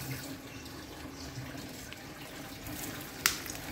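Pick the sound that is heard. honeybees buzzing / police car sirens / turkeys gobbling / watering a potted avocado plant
watering a potted avocado plant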